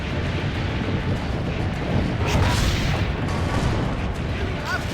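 Cannon fire in the video game Assassin's Creed: Brotherhood, a continuous heavy booming roar filling the scene with dense low rumble, loud and sustained, with some talk mixed in.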